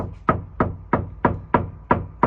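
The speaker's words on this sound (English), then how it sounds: "Hear that knock?" Seven evenly spaced, hollow knocks rap on a door in a steady rhythm, close and fairly loud.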